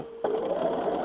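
A sewing machine starts up after a brief pause and runs steadily, stitching down the side of a quilt medallion with a continuous close whirring hum.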